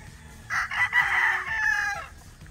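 A Paul's Park Gray straight-comb gamefowl rooster crows once on a Batangas game farm, a loud close cock-a-doodle-doo lasting about a second and a half, standing alone against a quiet background.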